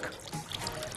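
Water draining through the soil of a potted African violet, with air bubbling up out of the soil as it soaks in: a soft, continuous close-up trickle and fizz of liquid.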